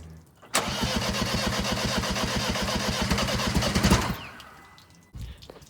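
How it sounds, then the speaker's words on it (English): A Mini Cooper S track car engine cranks briefly on its first start, then fires and roars into a loud, rough, rapidly pulsing run before cutting off abruptly, leaving quiet background. "Well, she turned over and she fired."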